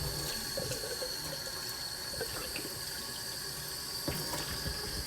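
Water running steadily to rinse out the inside of a boiler heating component, a continuous close splashing rush with a few brief knocks, heard alone without speech.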